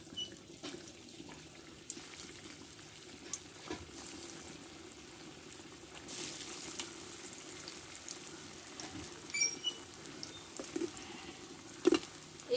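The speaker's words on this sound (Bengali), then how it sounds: "তেলটা গরম করে নিয়েছি মশলা মাখানো আলুগুলো আমি দিতে থাকবো এইভাবে" Spiced potatoes dropped into hot oil in a wok, a quiet, uneven crackle and sizzle with scattered pops and faint clinks, heard close but low in level and without speech.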